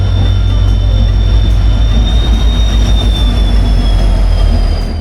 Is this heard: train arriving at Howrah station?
yes